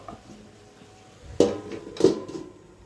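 A metal lid goes down on a cooking pot of chicken, making two distinct clanks about half a second apart, close and fairly loud, over quiet kitchen background.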